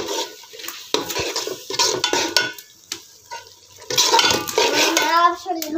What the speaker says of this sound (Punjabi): ਲਸਣ ਪਿਆਜ਼ ਅੱਛੀ ਤਰ੍ਹਾਂ ਬੋਇਲ ਹੋ ਗਿਆ ਹੁਣ ਇਹਦੇ ਵਿੱਚ ਮੈਂ ਘੀ ਪਾਉਂਦੀ ਹਾਂ